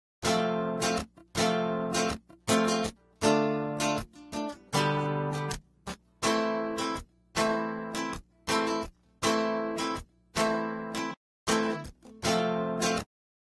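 An electric guitar plays short strummed chords processed with a fast delay chorus effect in FL Studio, each burst ringing briefly before cutting to silence in a choppy, rhythmic pattern.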